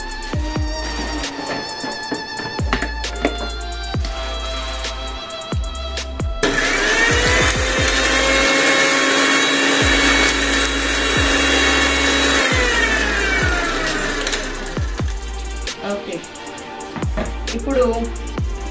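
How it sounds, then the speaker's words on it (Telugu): A kitchen mixer grinder whirs loudly for several seconds as fish curry masala is ground, a steady motor drone that starts abruptly, holds, then stops, with a few clinks and brief talk before and after. "ఇది మిక్సీ పట్టియవే"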